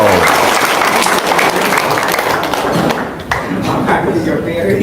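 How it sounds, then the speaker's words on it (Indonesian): A crowd at a religious gathering bursts into loud, dense clapping that stays steady and thick throughout, with voices mixed in underneath. "Wow, tepuk tangan dulu dong."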